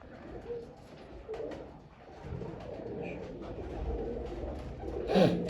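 White pigeons in a breeder's loft give soft, low cooing calls now and then over a steady murmur of background noise, with one brighter call near the end.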